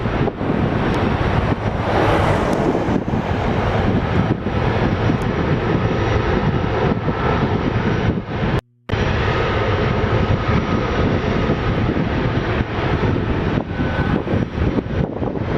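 Loud, continuous roar of an Air Canada airplane taking off at Toronto Pearson airport, with heavy engine rumble and wind buffeting the microphone, broken only by a brief dropout near the end.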